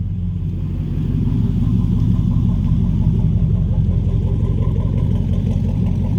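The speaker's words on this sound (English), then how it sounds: "here's what the truck sounds like. No cats, headers, true duals." Truck engine with headers, true dual exhaust, no catalytic converters and exhaust leaks by the mufflers, a loud deep rumbling idle held steady throughout, close by with no talking.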